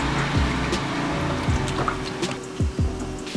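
Water comes to a boil in a pot for a beef and vegetable soup, giving a steady low bubbling and liquid churn with a few soft drips, continuous and close, with no talking.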